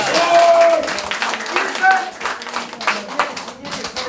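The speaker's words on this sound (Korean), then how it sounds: "큰 박수 한번 보내주십시오" A crowd at an event in a Red Cross hall claps steadily and loudly, the applause fading gradually while voices speak over it.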